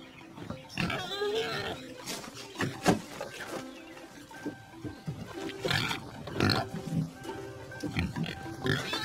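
A hog grunts and oinks repeatedly at close range, with rough snorts and squeals rising over a noisy, busy background.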